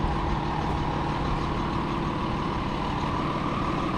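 Loaders and trucks sit at on-site diesel fuel tanks for refuelling, their engines giving a steady, loud, low idling rumble throughout, with no voices.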